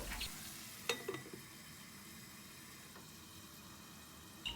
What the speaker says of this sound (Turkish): Şöyle bir karıştırdıktan sonra ocağı kısıp kendi halinde kavrulmaya bırakıyorum